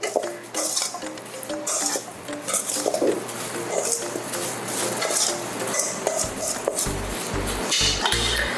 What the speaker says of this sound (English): I'm gonna mix this up, give this a stir